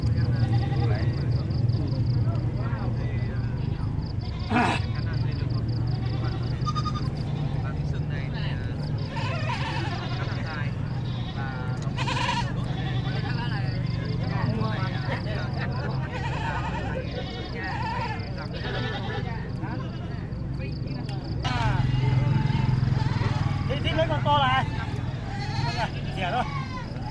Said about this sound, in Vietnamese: Đây là dê này như kiểu là vẫn là cùng một đàn thôi